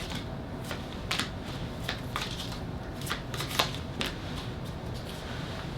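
Oracle cards shuffled continuously, a soft rapid patter with occasional sharper snaps, close but low over a steady background hiss.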